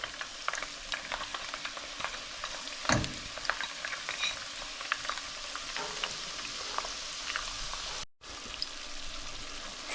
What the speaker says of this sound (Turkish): Soğanlarımız iyice ölene kadar şu şekilde tavuklarımızın arasında kavuruyoruz